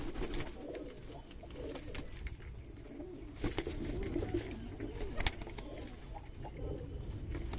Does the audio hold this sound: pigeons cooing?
yes